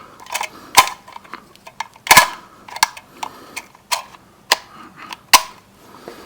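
Rapid shotgun fire from a Derya MK12 shot one-handed: a quick string of sharp, cracking reports, the loudest few standing out from smaller clicks and taps, close and loud.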